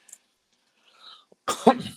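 A single short cough right near the end after near silence, close and fairly loud.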